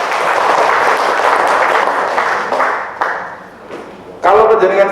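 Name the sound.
applause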